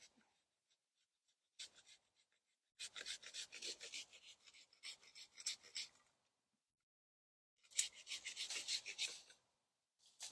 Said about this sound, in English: In with the pruning saw.